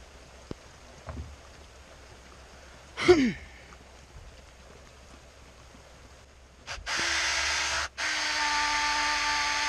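A power drill whirs steadily at moderate loudness during a budget bipod build, stops briefly, then runs again. Earlier come a few faint clicks and a short squeal.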